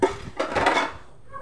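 Plates being washed at home, a short clatter of dishes and utensils knocking together at close range, with no talking.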